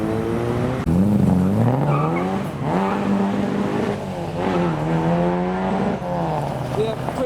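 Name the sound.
Mark 1 Mazda MX-5 driving away from car show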